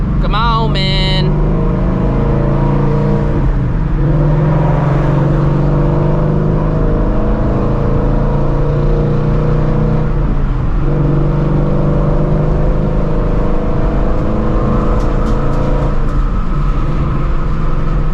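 Steady, loud engine drone from inside a Dodge Scat Pack cruising in traffic, with a few brief bumps and shifts in tone. Some talking is heard over it.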